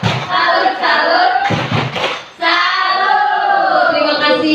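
Group of people doing the Indonesian 'tepuk salut' clapping chant, a few claps mixed with loud voices chanting and talking throughout.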